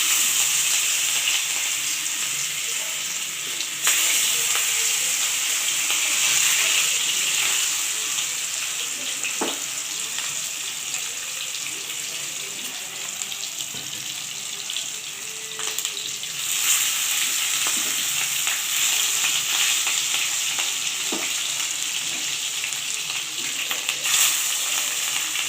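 Pieces of catla fish fry in hot mustard oil in a wok, a loud continuous sizzle and crackle with occasional sharp pops and brief surges, no voices.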